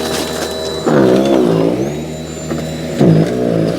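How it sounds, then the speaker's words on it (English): A Worx 40V cordless battery-powered 20-inch snow blower, pushed by hand, clearing about a foot of powdery snow, a loud, close electric whirring hum that rises in surges as the load changes, with no voices. "We'll see how the Worx snowblower deals with this mess."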